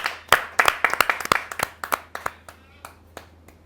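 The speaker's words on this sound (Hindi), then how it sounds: "आपके जोरदार तालियां मिले" Applause for a poet at a kavi sammelan: a brisk burst of clapping from a small audience, several close hands at first, thinning to scattered single claps that fade out by the end.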